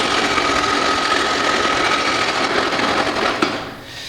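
An old Kity planer thicknesser with a 260 by 200 mm capacity runs in thicknessing mode, giving a loud, steady, close mechanical whir with a rattling edge that eases off near the end.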